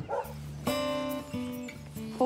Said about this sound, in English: Pip, she's a Hantaway, and Mouse on the end.